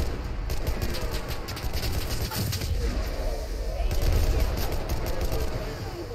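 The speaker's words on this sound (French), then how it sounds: "je tire de quoi au hasard" Gunfire in the video game Enlisted, in a zombie survival mode, crackles as dense, continuous rattling bursts of shots with a low rumble beneath, loud and steady throughout.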